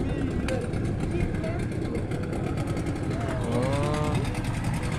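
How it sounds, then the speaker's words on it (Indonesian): A Vespa scooter engine runs steadily nearby with a continuous buzzing drone, loud and unbroken throughout, while people talk over it. "Mesin Vespa."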